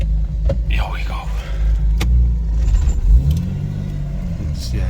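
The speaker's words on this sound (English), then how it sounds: "that's the grabbiness of the clutch. This thing just... You can hear it." A BMW 1M with a grabby clutch pulls away, its engine giving a low, lurching rumble close by, with a brief rising note partway through as people talk inside the car.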